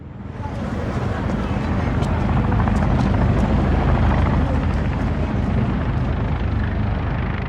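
Helicopters flying during an evacuation in Vietnam give a loud, steady, close rotor roar that fills the whole stretch without pause.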